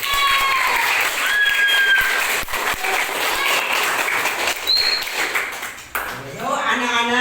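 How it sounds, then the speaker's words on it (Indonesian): A classroom group of students breaks into applause, a dense wash of clapping that fades midway, with bright electronic pings and voices mixed in. "Tepuk tangan untuk semuanya."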